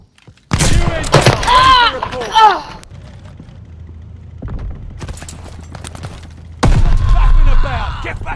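Sniper gunfire in a first-person shooter video game rings out in sharp bursts between stretches of quieter in-game ambience, with loud shouted reactions from a player over the shots.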